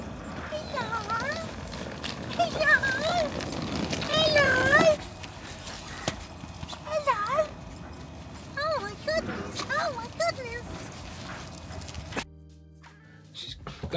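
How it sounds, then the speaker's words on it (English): Dogs on a canal boat at a marina give short bursts of yips and barks at close range, scattered through the scene. People talk throughout. "You might notice the dogs."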